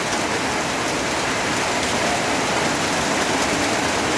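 Steady, heavy rain pours down continuously, a dense hiss without pauses, loud and close.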